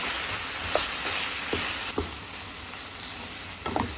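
Oil sizzles steadily in a pan over a medium flame while asparagus is fried for a chutney, a constant close hiss broken by occasional stirring clicks, with no voices.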